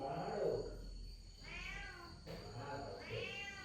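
A cat meows twice, two drawn-out, rising-and-falling cries close by, with a soft murmur in the background.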